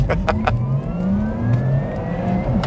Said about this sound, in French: allez, gaz à fond. Launch activé.